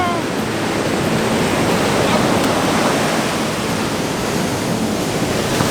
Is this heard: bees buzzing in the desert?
no